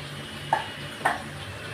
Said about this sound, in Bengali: এদিকে আমার মাংসটা ভাজা বসিয়ে দিয়েছি একদম ছাকা তেলে